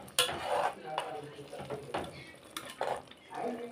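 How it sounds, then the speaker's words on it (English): A spoon stirs jollof rice and beans in a cooking pot, making repeated scraping and clinking strokes against the metal, with faint sizzling and a voice talking in places. "The next thing I'm about to do now is to stir, to have it mixed together"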